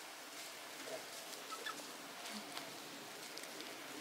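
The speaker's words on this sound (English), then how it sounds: "that was a rooster and a chicken" Chickens and roosters clucking faintly at a distance, short scattered calls over a steady background hiss.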